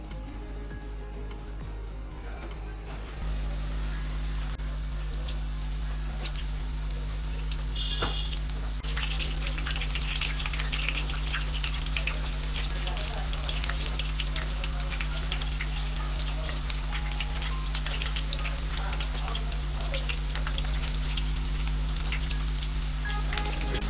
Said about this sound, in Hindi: हमारा तेल काफ़ी अच्छे से गर्म हो गया है, तो अब चलिए पकौड़ा फ्राई करते हैं।